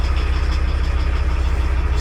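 A VW T4 van engine idling just after starting, with a steady low pulsing rumble, close and loud and unchanging throughout.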